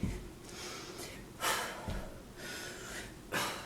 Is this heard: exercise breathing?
yes